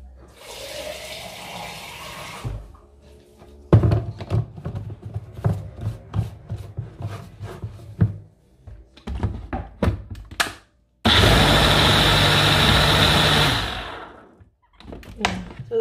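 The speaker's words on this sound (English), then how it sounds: "As I blend it again, I'm going to bring out the juice again." A blender whirs through a batch of juice in two loud continuous bursts, one short and one a few seconds long. Between them come knocks, clunks and rattling handling noises.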